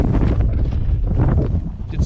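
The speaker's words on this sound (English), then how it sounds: "It's nasty out here, it's windy." Strong wind buffets the microphone out on the open ice while fishing for yellow perch in cold conditions, a loud continuous low rumble with gusty surges throughout.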